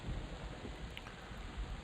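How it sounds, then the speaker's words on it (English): Soft, steady hiss of rain falling in the video game Everquest, a faint continuous patter with low rumbles and no voices. "Just started raining here, unfortunately."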